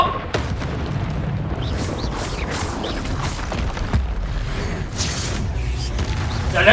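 An ancient magic spell in the video game Hogwarts Legacy gives off a continuous deep rumbling boom with creaking, crackling textures that swell and settle across the whole stretch.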